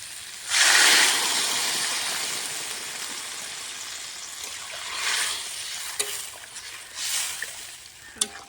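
Potato, cauliflower and bean curry in a hot pan as water goes in, with a sharp burst of hiss and sizzle that fades into a quieter simmer, then a few more spurts and light clinks.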